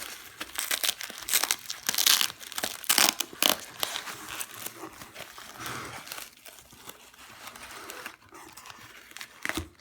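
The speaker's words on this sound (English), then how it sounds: "I'm gonna gently try to get this guy out of the package" Plastic packaging crinkling and rustling up close as an HO scale model diesel locomotive is worked out of its package, with bursts of crackling and some cutting, no talking.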